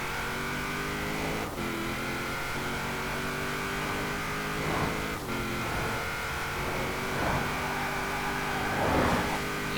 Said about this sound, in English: Like a typical Nissan Silvia, it likes to slide around.